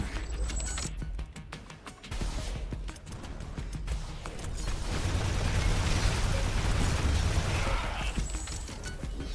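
Artillery towers in The Riftbreaker fire a rapid series of sharp blasts, followed by a denser, rumbling stretch of explosions and crackling impacts at moderate level.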